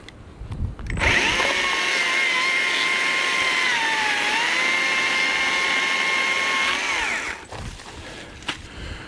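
A saw cuts through roadside firewood on a hillside, starting with a sharp rise into a loud, steady whining buzz that holds for several seconds, dips briefly under load, then cuts off and leaves quieter rustling.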